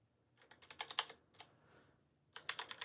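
Rapid bursts of typing on a computer keyboard, clattering keystrokes in two quick runs separated by a short pause, close and clear with no talking.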